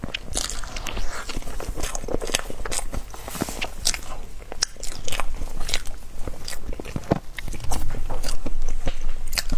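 Close, crisp biting and steady chewing of a dense taro layer cake, with crunchy crackling bites and wet mastication repeating throughout, loud and continuous with no talking.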